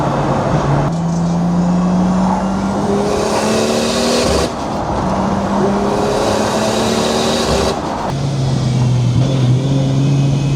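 A Nissan S14 running slightly lean and hitting boost cut while driving: loud engine drone rising through revs, with abrupt breaks where power cuts out and restarts, repeated several times.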